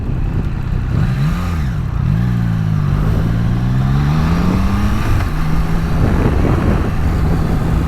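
A 2022 Triumph Trident 660 motorcycle engine runs steadily and loudly on a highway, its pitch climbing and falling as it accelerates through gears, with constant road and wind noise.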